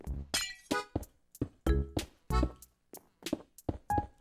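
Glass blocks being placed in Minecraft: a run of crisp, close clinking taps, about a dozen in an uneven rhythm with short silences between them.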